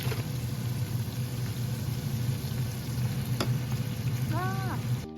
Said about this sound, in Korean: 감바스 만들어 보겠습니다.